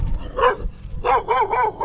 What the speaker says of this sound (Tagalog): At tahol ang aso.